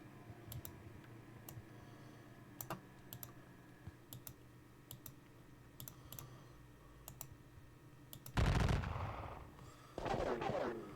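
Musket and cannon fire from a Battle of Waterloo wargame sounds as faint, evenly spaced sharp clicks and pops over a steady low hum. Two louder rushing blasts follow near the end.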